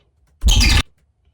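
One short synthesized sample, its chorus pitched down to follow the rate modulation so it bends downward, loud and isolated, lasting under half a second with silence around it.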